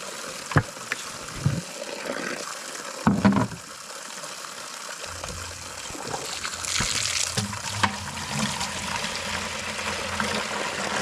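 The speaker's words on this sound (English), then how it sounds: "got some nice fresh water coming out of there" Water runs steadily from an outdoor tap, trickling and splashing, with a few clunks and knocks of handling along the way.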